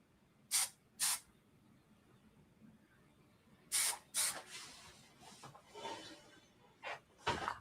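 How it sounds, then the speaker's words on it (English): Hairspray aerosol sprayed onto styled bridal hair in several sharp hissing bursts: two quick ones, a pause, then a denser run of short sprays, close and fairly loud with no talk. "now we come in with our hairspray"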